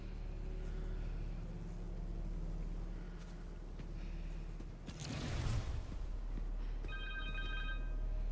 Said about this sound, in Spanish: Un teléfono.